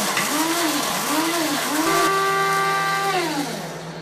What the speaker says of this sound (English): chips that I'm going to grind up into making coconut flour